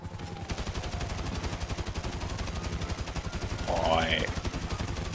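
Sustained rapid gunfire in GTA V, a steady stream of evenly spaced automatic shots throughout, with a short tonal game sound partway through.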